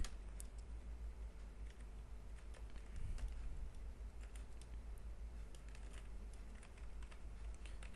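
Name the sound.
typing code on a computer keyboard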